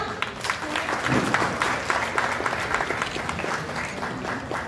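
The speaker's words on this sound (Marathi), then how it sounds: "टाळ्या." Steady applause from a crowd at a women's literary conference in Nashik, many hands clapping continuously for several seconds without a break.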